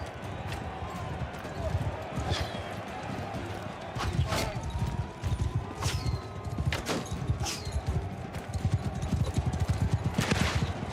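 Video game horse hooves: a continuous run of quick clip-clop strikes, fairly close and steady, with occasional sharper knocks and shots over it.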